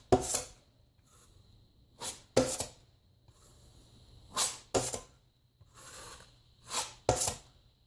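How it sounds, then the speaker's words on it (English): A drywall knife blade being scraped clean on a patched wall or mud pan, giving several short, separate rasping strokes with quiet gaps between them. "Now I'm scraping my blade clean."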